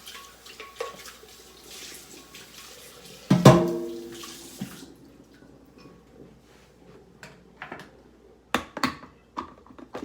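Water splashes loudly into a blender once while rinsing out ginger particles, then drains and trickles away, followed by a few scattered clinks and taps.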